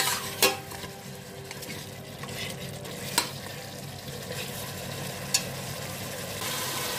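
Onions fry in oil in a pot for a lamb curry, giving a steady sizzling hiss broken by a few sharp clinks of the stirring spoon.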